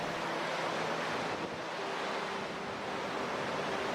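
Water of the North Fork of Kings River in California rushes and crashes over rocks, a steady, loud broadband roar that fills the whole clip without pause, with no voices.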